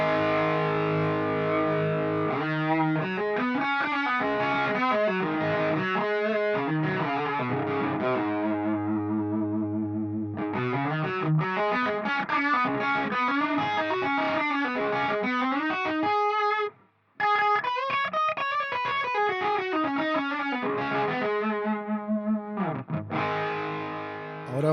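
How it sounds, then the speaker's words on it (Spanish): Clean electric guitar track reamped through a tube amplifier with no effects, a continuous melodic part with sustained notes and a brief drop near the end, played alone without voices. "vamos a escuchar la viola pelada sin ningún efecto, solo el reamp."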